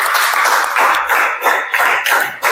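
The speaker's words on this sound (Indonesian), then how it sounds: "Give applause, tepuk tangan." A classroom group claps together in a steady burst of applause, close and loud, the rhythm rising and falling over a couple of seconds with no talk over it.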